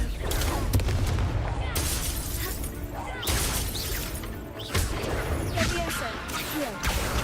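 Confringo explosive spell cast in the video game Hogwarts Legacy, loud booming blasts and crackling bursts over dense continuous game effects, a voice calling spell names through the clip.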